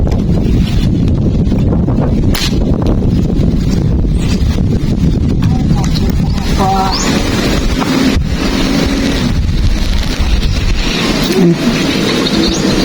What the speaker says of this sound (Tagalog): Mahangin humihinto lang.